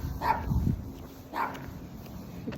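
A dog barks twice indoors, the two short yips about a second apart at moderate distance over a quiet room background, followed by a faint whimper.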